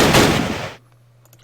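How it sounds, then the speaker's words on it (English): Infantry gunfire in the wartime strategy game Battle Academy: a loud, dense burst of shots lasting under a second, then a quick drop to near silence with faint clicks. "we can just shoot at them from here comfortably"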